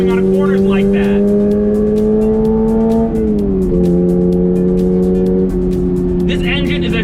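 A naturally aspirated engine in a 2022 Toyota GR86 sings loudly on track, a buzzy sustained tone that climbs, dips as it shifts, then climbs again, with tire noise and road roar underneath.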